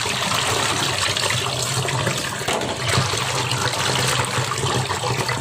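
Raw rohu fish, rubbed with salt and turmeric, is rinsed under running water, giving a loud, continuous splashing and pouring close by with no pauses.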